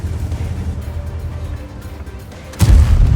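Tank cannon fire in World of Tanks, a single heavy boom hitting sharply near the end over a steady low engine rumble, with no talk.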